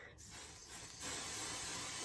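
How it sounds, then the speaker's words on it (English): Aerosol spray can hissing in a steady burst, starting softly and then growing louder and fuller about halfway through, close up with no talking. "I'll spray right there."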